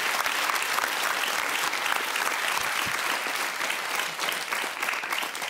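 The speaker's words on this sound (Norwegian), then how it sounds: "Ja, det skal vi klappe for." A studio audience on a Norwegian talk show claps warmly, a dense, sustained round of applause filling the room without pause.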